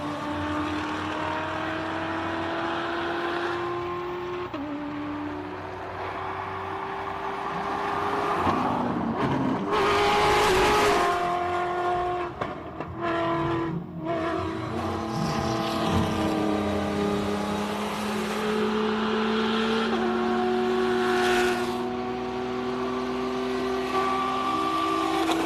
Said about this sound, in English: And here they are on the track, the Rally Raid cars.